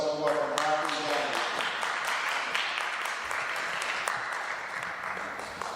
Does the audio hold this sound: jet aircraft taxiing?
no